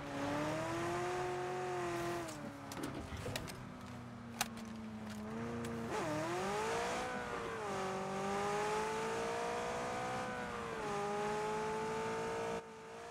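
A car engine in PUBG drives steadily, its pitch rising and falling as it revs, with a few brief clicks and knocks along the way and no talking over it.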